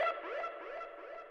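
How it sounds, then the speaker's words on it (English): A recorded vocal whoop processed with auto-tune, saturation, distortion, reverb and delay sounds as a short, pitched, warbling cry that repeats in echoing, fading tails. "the Vox is actually me going whoop into the mic"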